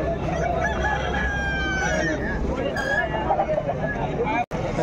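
Rooster crowing at a busy poultry market, the crow rising over a constant babble of voices and other birds, with people talking nearby throughout.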